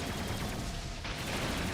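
Gyrocopter's Flak Cannon firing in a Dota 2 match, a dense, continuous barrage of rapid shots mixed with other battle noise, steady and loud throughout the short stretch.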